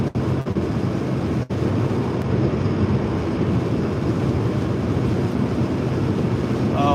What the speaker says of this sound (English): Yeah, it is pretty windy.